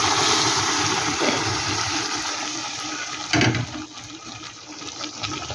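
Liquid is poured in one go into a pan of fried ghugni spice paste. A loud, continuous rushing gush of liquid dominates, with a brief heavier splash midway before it tapers off.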